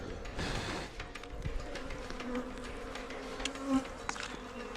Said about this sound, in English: This loud buzzing is coming from thousands of bees.